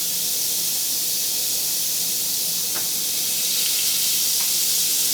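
Marinated pork chops sizzle on a heated George Foreman smokeless grill, a steady close hiss that fills the whole stretch with a couple of faint pops and no talk.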